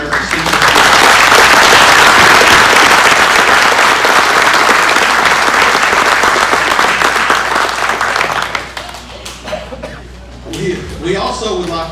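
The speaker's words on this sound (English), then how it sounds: "please join me in a warm round of applause for our senior" Warm applause from the audience at a Good Scout Award dinner in Campbell County, Tennessee, honoring the senior scout, loud and sustained for about eight seconds before fading into scattered claps, murmurs and light chuckles.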